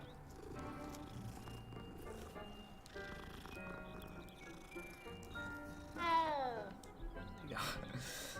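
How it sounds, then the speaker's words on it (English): A cat meows inside the Hogwarts Legacy video game, several short rising and falling cries rising over continuous game music and ambient sound, with someone talking throughout. "It's a cat."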